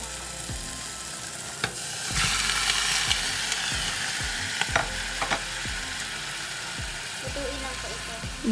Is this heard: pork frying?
yes